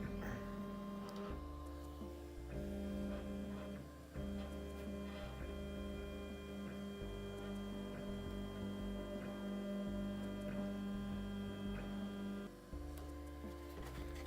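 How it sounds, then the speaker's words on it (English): A Qidi Tech X-Pro 3D printer raises its Z axis with a steady, faint motor hum and whine that shifts pitch in distinct steps, along with light ticks, over about fourteen seconds. "start the printer and then we're going to go into Tools, go to Manual, and then start raising the Z."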